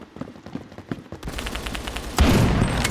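Rapid gunfire from a BFG50 rifle in a video game: a quick series of sharp cracks, then denser, louder blasts near the end, close and with no talk.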